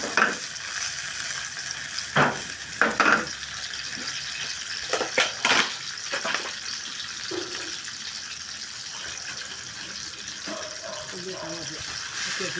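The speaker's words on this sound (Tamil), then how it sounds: "வாசனை பொருட்கள் சேர்த்து வெங்காயம் நல்லா வதக்கிங்க." Onions frying with spices in a pan for a Devil Chicken dish, giving a steady broadband sizzle with occasional sharp clatters and stirring knocks throughout, close and moderately loud with no speech over it.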